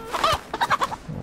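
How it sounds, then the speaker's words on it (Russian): A rooster in the DayZ video game clucks in a short burst of about five quick, fairly close calls, heard alone with no talk. "Ну и где-то здесь петушок."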